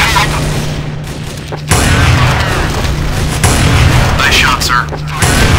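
Gunshots in Counter-Strike: Source on the Hangar map: three sharp, loud reports spaced about two seconds apart over a steady low hum and ambient game noise.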